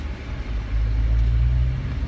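Lifted Jeep Wrangler Rubicon on 35-inch tires pulling off from a dead stop in second gear, a low engine rumble that swells slightly as it moves, steady and close.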